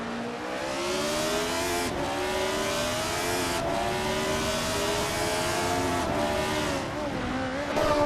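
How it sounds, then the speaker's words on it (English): McLaren M23 race car in a racing video game, its engine howling loud and steady at high revs, with brief dips as it shifts gears before climbing again, alone and without voices. "Princess Wildface is driving a McLaren M23"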